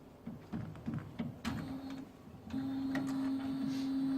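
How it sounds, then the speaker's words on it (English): An Epson flatbed printer powers on, giving a series of mechanical clicks and whirring bursts before settling into a steady, loud motor hum, heard close with no voices. "Then we click Start to power on the top Epson printer."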